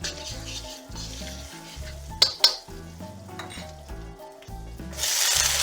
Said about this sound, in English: Now, into the pan, I'm going to add my bacon.